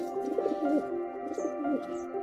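Pigeons kept for sale coo softly in repeated low, rolling phrases nearby, with no voices.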